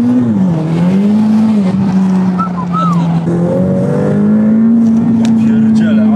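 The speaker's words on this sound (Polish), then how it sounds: "Niby on jest ten dźwięk. Ferrari się ma drzeć." A Ferrari engine drones loud and steady from inside the car as it accelerates, its pitch rising and holding, with people talking over it.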